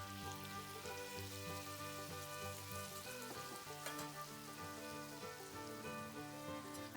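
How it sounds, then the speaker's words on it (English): Chicken pieces and chestnuts with light soy sauce and salt sizzle steadily in a hot wok as they are stir-fried, a continuous frying hiss running under prominent background music. "Stir fry again until the seasonings are evenly spread"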